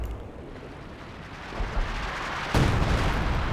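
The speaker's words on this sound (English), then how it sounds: "so is that another base barrage?" Artillery base barrage in the video game Company of Heroes 2: a dense rumbling bombardment that swells and grows louder, with a heavier blast hitting near the end, continuous and with no talking.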